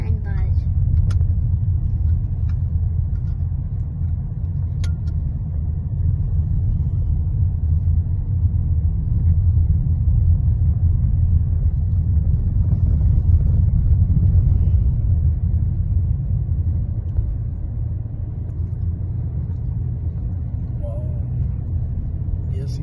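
A car drives along a road through green forest on La Gomera, climbing toward the Mirador de Abrante viewpoint above Agulo at about 1244 metres, a steady low engine and road rumble heard from inside the car under continuous talking.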